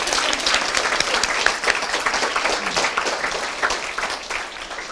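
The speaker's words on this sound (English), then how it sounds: "can we give her another round of applause, because that was so cool" An audience at an evening Out & Proud talk applauds a guest speaker, dense continuous clapping holding steady and loud throughout with no voices above it.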